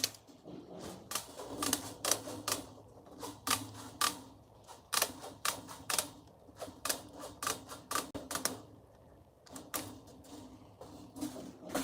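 Stucco metal lath being cut with snips, a run of sharp, close metallic clicks and snaps in an uneven rhythm, with no talking.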